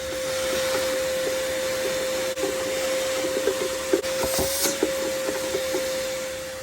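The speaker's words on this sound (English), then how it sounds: "if you have a vacuum, it'd be a good idea to just vacuum all this out" A vacuum cleaner runs steadily with a constant whining drone, close by, cleaning out a BMW G12 7 Series engine air filter housing, with a few brief bumps and knocks as the nozzle moves around.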